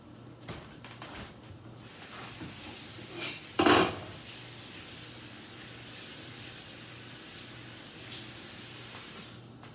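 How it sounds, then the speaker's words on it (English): Green onions rinsed under a running kitchen tap into a bowl, a steady close hiss of flowing water throughout with a brief louder splash partway through. "I'm going to give these green onions a quick rinse right here"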